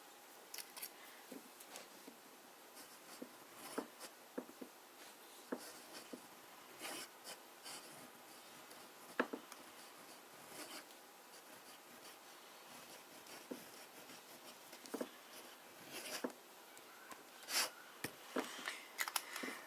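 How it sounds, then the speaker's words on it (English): A Conway Stewart Edgcumbe fountain pen scratches across paper in flex writing, a quiet, close, continuous scraping broken by light taps and strokes with small pauses between them. "we should do a little bit of flex writing"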